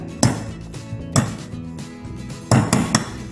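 Metal struck with a hammer while building a simple stove from scrap materials, sounding as a few sharp, ringing clanks spaced irregularly, with a cluster of three quick hits near the end.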